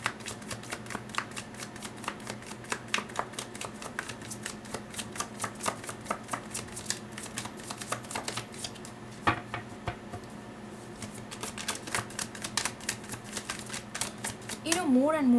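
Tarot cards shuffled continuously in quick, dense riffling bursts close up, steady and fairly loud, with a voice briefly heard near the end.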